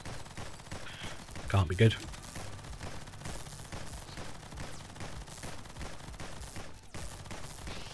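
Rapid gunfire from a modified sniper rifle in the game Nimrods Guncraft Survivor, with a sharp burst of shots near the start and further crackling fire over a dense in-game background, while a player briefly talks.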